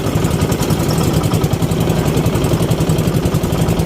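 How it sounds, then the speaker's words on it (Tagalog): Two boat engines drone loudly and continuously with a steady rapid throb, close by and unbroken, with no talk over them, as the boat travels near an island. "pinaandar na ni tropa ko yung dalawang makina"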